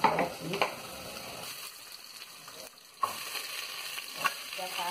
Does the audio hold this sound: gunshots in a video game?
no